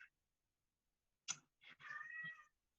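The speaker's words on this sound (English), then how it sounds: "my cat is meowing" A house cat gives a brief chirp, then a short meow followed by a longer drawn-out meow, close by but quiet, with no talking.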